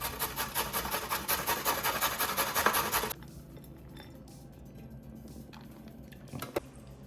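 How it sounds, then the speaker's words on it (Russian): Carrots rubbed on a coarse box grater for plov, a loud steady rasping run of quick strokes for about three seconds, then only faint kitchen clatter and quiet room noise. "Морковь натираю на крупной терке."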